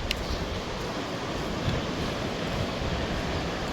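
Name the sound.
waves on a beach in Ireland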